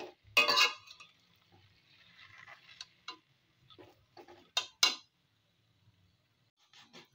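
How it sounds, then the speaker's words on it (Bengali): Amla and cane jaggery are stirred in a pan, giving sparse, quiet scrapes and clicks of a utensil against the pan with short pauses between strokes. "এবার এর সাথে খুব ভালো করে মিশিয়ে নেব।"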